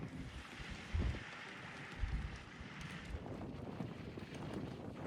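Gusty wind buffets the microphone aboard a sailboat in heavy, rumbling bursts, with a steady rushing hiss in between and no voices.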